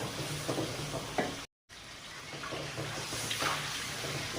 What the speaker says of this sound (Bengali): মশলাটা এবার সুন্দর করে ভেজে নেব